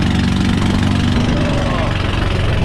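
A Renault 4L engine misfiring and running on three cylinders, a loud rough tractor-like idle that throbs unevenly and continuously at close range while people talk over it.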